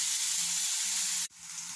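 Minced meat frying with golden onions in a pan makes a continuous hissing sizzle, broken briefly near the end by a sharp knock from stirring before the sizzle resumes.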